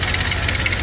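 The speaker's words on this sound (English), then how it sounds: "All right, we got our engine running." A car engine idles steadily with a low, even rumble and faint rhythmic knocking, close and continuous with no voices.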